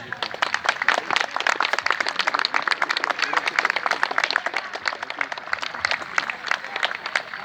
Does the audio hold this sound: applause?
yes